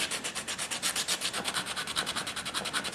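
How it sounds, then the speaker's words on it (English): Stiff 60-grit sandpaper is worked by hand into the grooves of a detailed wooden furniture surface, making a fast, steady, rhythmic back-and-forth rasp heard up close with no talking. "that's what you want for detailed sanding, because you can get it right in the groove"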